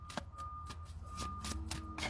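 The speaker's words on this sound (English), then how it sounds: "I'm sorry, my shuffling makes me bounce the camera." Tarot cards shuffled in quick repeated riffles and slaps, a steady papery flutter close by against a low background hum.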